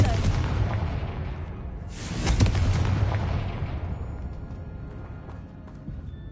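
A Confringo fire-blast spell explodes in Hogwarts Legacy, a loud booming burst that swells around the middle and then rumbles and fades, with another muffled blast near the end.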